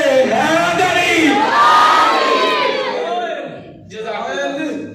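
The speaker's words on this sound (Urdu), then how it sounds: "ایک بار پھر بولو نعرے حیدری" A large crowd at a religious gathering honouring Mola Ali roars the Naara-e-Haidri chant in a loud, sustained mass of shouting voices, dips briefly, then rises again in a second burst.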